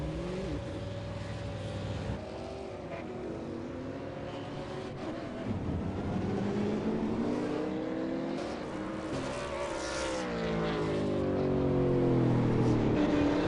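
V8 Supercar lapping Interlagos in a sim racing game, a steady, loud engine drone with rising and falling pitch through gear changes, building slightly louder toward the end, with no talk over it.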